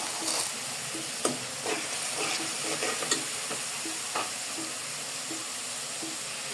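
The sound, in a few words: spice paste frying in a pan for duck curry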